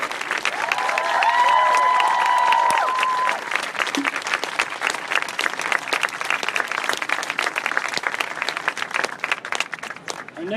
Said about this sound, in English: A round of applause for Della.